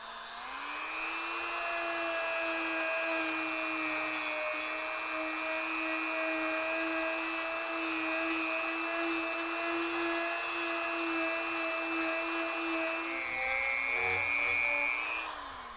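Dremel rotary tool grinding rust and buildup off a metal pump part, a steady high-pitched whine held close for a long stretch, dipping and shifting pitch near the end.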